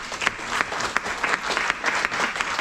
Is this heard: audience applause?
yes